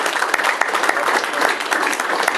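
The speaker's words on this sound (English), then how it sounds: "Everybody give them a round of applause." Dense applause from an audience at a veterans' post meeting, a steady patter of many hands clapping, close and continuous throughout.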